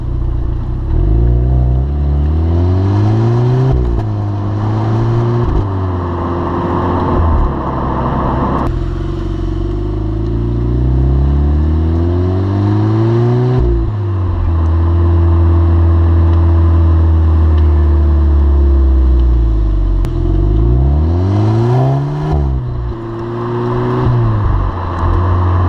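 Volkswagen Polo GTI engine loud and close throughout, revs repeatedly rising and falling through gear changes as the hatchback is driven hard and cornered, with no talking.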